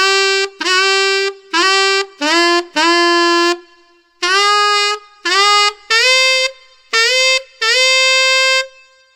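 A saxophone plays a series of loud, bright sustained notes, each opening with a quick upward lip scoop shaped by a grace note and larynx bend, separated by short breaths, with no talking.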